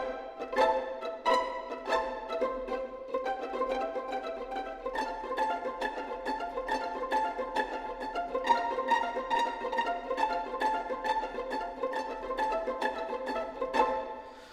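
Plucked pizzicato string section played back from music composition software, a steady run of short bright plucked notes in a brisk rhythm, full and close, with no talking.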